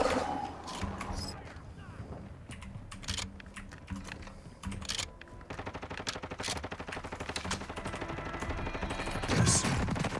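Rapid automatic gunfire from a Warzone 2 match, bursts of firing mixed with heavy keyboard clatter throughout, with the fire growing denser and more continuous in the second half, no voices over it.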